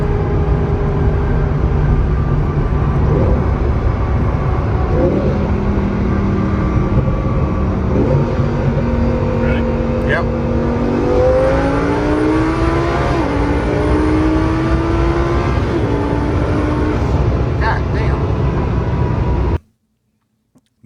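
A Lamborghini Performante sports car engine, recorded in the cabin, roars loudly and steadily with several rising revs and gear changes, then cuts off abruptly near the end.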